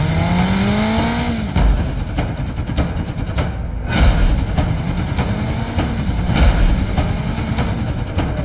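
A car driven fast in a getaway, engine revving and rising in pitch, then gear changes, a sharp burst and repeated surges as it speeds on, loud and close, with no talking.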